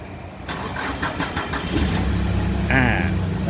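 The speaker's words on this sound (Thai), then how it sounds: "คีย์ออฟ ลองติดเครื่องยนต์" A car engine with a throttle position sensor circuit fault cranks with a few rapid clicks, then catches and settles into a close, steady idle that swells slightly near the end.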